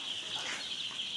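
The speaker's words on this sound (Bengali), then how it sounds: "800 মুরগির বাচ্চা উঠাইছি বোর্ডিংয়ে।" Hundreds of young chicks on a poultry farm, about 800 in brooding pens, keep up a dense, steady peeping chorus that stays close and continuous throughout.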